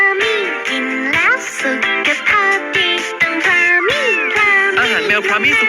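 A cat meows repeatedly in a rapid string of loud, close, rising and falling calls, alone without talk.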